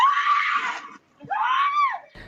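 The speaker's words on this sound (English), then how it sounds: "Her screams so chilling," Woman screaming during an assault in a parking lot, two long, loud, piercing shrieks separated by a brief gap, with a short thud near the end.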